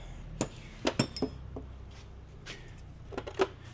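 Light metallic clinks from a 21 mm wrench working the end link nut on a G35/G37 front suspension, several sparse taps and chinks at close range against a quiet garage background.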